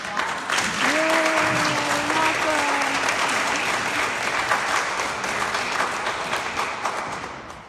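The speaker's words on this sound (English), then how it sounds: "Can you please just stand quickly so we can give you a round of applause?" A crowd claps steadily for several seconds at a celebration event, a dense wash of applause with some voices briefly audible early on, gradually fading.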